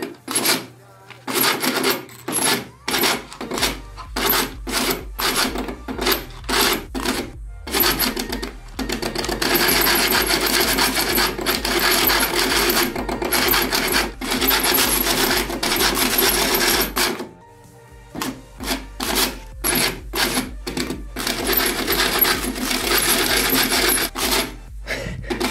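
Arduino-driven stepper motor cash dispenser robot ejecting bills, a loud, close whirring and rasping with rapid on-off bursts, then a long continuous run, then more bursts.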